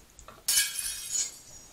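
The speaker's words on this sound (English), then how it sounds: "Glass breaking! Shattering." Glass breaks with one sudden loud crash followed by a bright shattering spray of fragments that tinkles away over about a second, standing alone with no talk.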